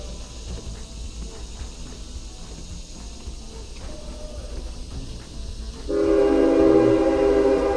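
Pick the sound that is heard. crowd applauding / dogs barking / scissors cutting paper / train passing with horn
train passing with horn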